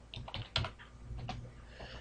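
Typing on a computer keyboard while naming a spreadsheet tab, a short run of close, irregular key clicks with a few louder strikes, no talking.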